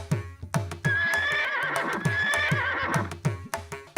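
A horse neighs loudly over a steady clip-clop of hooves striking the ground in an even rhythm.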